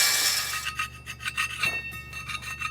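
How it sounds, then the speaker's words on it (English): An angle grinder works metal off a bump stop during axle and brake drum repair, giving a bright, harsh rasp in uneven bursts that swell and fade, close by with no talking. "He's grinding off some metal that was on a bump stop over there."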